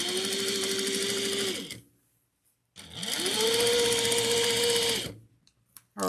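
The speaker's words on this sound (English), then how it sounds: "We're sewing the bottom close as well." A sewing machine stitches the bottom of a pillowcase closed in two steady whirring runs, loud and close, with a short pause between them and no talk.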